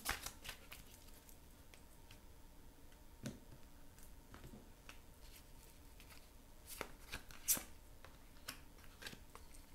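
Tarot or oracle cards are shuffled by hand before one is drawn, a quiet run of soft riffling and flicking with scattered sharper taps and one louder snap near the end, close and with no speech.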